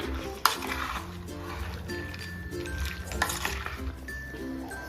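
Soaked sago being stirred together with curd in a bowl: soft wet squelching and occasional spoon clinks against the dish, with a sharp clink near the start, set against a low background hum.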